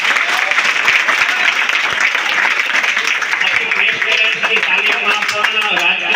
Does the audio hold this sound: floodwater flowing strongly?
no